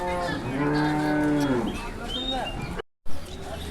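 Cow at the Hozrotpur cattle market lowing in a long, loud, drawn-out moo that rises and falls over market chatter, then a brief dropout followed by a shorter burst.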